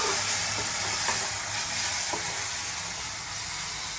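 Tomatoes and onions cooking in a pan for a methi matar malai gravy, a steady soft sizzle with faint stirring scrapes and light clinks throughout, no talking.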